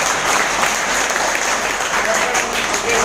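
Sustained applause from an audience at a business meeting in a hotel hall in Maninagar: dense, steady clapping that stays loud and even for about three seconds, with no pause.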